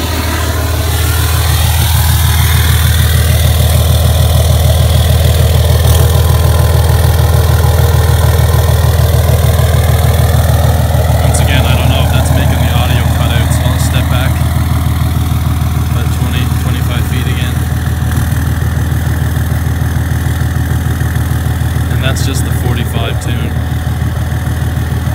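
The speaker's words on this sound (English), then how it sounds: "now that sounds like a Cummins" A RAM 2500 Laramie Mega Cab with a Cummins diesel engine and a G56 transmission idles on a tune, a deep, steady, loud rumble lasting throughout, with a few light clicks over it.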